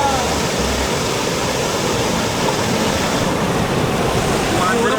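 Strong, chest-deep river current rushing around bathers, a loud continuous roar of churning water with wind buffeting, and faint voices beneath.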